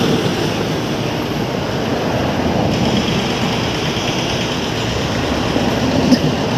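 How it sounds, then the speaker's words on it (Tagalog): Strong water rushes beneath a pile cap foundation at a construction site, a loud, dense and unbroken roar held at a constant level for several seconds, with no talking. "May tubig din pala sa ilalim. Yan, ang lakas ng tubig."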